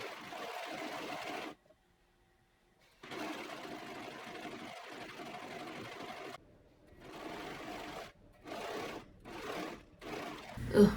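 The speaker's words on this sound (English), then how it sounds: "So I think now I'm gonna go serge all the pieces." A serger overlocks the edges of cut dress fabric pieces in loud, close runs of steady whirring stitching, broken by a long pause and several short bursts near the end.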